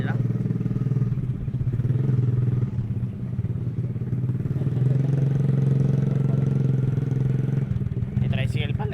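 A motorcycle engine runs steadily nearby with a low, throbbing rumble and some clatter, holding a fairly constant pitch throughout.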